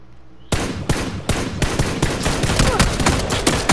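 PUBG gunfire from an M16: a quick run of loud shots, roughly nine evenly spaced cracks in under four seconds, close and punchy, with no talking.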